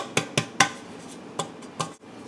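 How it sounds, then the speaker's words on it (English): A greased cake pan being tapped to spread flour gives several sharp metallic knocks, three in quick succession and then two more spaced apart, close and fairly crisp against a quiet room. "Then drop a little bit of flour in there and slowly hit it around."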